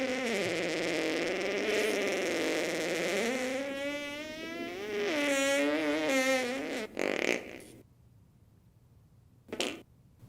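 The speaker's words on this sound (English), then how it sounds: "Is that a fart?" A long, wavering, buzzing fart rises and falls in pitch for several seconds, ends in a short sputter, and is followed after a quiet gap by one brief faint burst.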